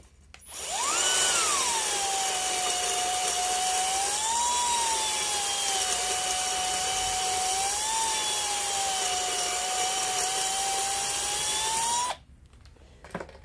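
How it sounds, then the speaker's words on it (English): A power drill runs at low speed, honing the cylinder of a Husqvarna 268XP chainsaw, making a steady, loud whine that holds for about eleven seconds with slight rises in pitch before it stops abruptly. "Low speed on the drill."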